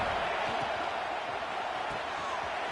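In the College Football 25 video game, a stadium crowd gives off a dense, steady roar that fills the space without a break, with commentary heard over it.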